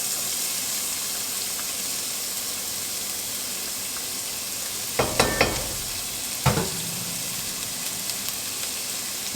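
Onions are added to melted butter in a pot for tomato soup. A soft, steady sizzle runs throughout, broken by two sharper clatters and splashes of stirring midway.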